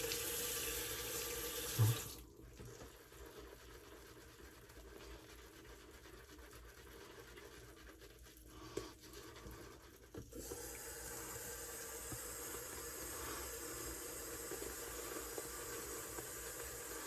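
Water runs steadily from a tap to wet shaving soap lather for a straight razor shave, a continuous hiss that drops briefly and swells again, with no talk.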